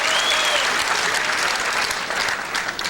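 Steady, dense applause from an audience at a 1995 professional 8-ball pool final, loud and sustained throughout with no talk over it.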